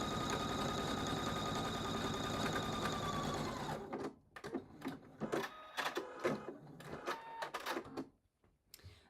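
A sewing machine runs fast and steady for about four seconds stitching a scant quarter-inch quilt seam on a checkerboard needle book cover, then stops, followed by light clicks and fabric handling.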